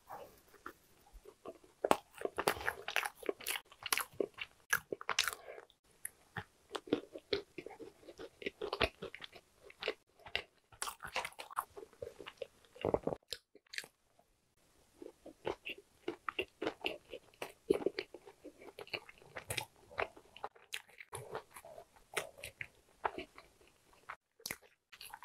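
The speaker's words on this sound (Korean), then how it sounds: "오늘 먹을 음식은 호두 과자입니다" Close-up crunching and chewing of Korean walnut cakes (hodu-gwaja) with choux cream filling, repeated soft bites and mouth sounds in irregular bursts with brief silent gaps, no talking.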